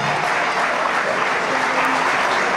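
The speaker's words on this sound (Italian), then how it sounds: "Fate ancora un bel applauso, su," Sustained audience applause at an athletics award ceremony in Sardinia, a dense, steady wash of clapping from a large crowd that continues loud and unbroken throughout.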